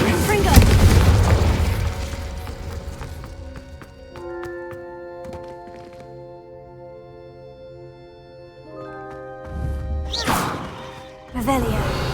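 Confringo blasting spells go off in Hogwarts Legacy, a loud booming burst at the start, then sustained tonal game music with a couple more thumping impacts near the end.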